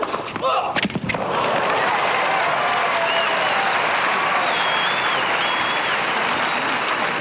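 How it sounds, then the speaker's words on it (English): Crowd at a 1985 Stratton Mountain semifinal tennis match between Lendl and Connors applauding after a break-point serve, a sustained wash of clapping that swells quickly and holds steady, with a few sharp knocks at the start and faint whistles in the background. "he deserves some applause there"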